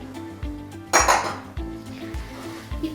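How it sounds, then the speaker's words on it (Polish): Fork stirring cake dough for cheese doughnuts in a bowl, loud clinks and scrapes of metal against the bowl in uneven strokes, close up with no talking. "i to wszystko sobie tutaj zamieszam. Jeszcze widelcem."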